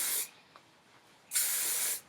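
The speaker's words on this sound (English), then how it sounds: "I usually just spray each layer with a light hairspray" Two bursts of light hairspray from an aerosol can misted onto curled hair with extensions, a short hiss near the start and a longer, steady two-thirds-second spray after a pause, close and clear.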